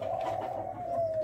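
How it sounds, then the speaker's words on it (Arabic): Young pigeon squabs in a coop give a short, soft cooing call, a steady low hum that lasts about a second close by, with no voices. "ادي زغلول وادي زغلول بينقر اهو"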